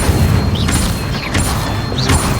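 In a Harry Potter video game, a caster fires the Incendio fire spell: a loud, dense whooshing burst that holds steady for a couple of seconds, with faint chiming sparkles above it.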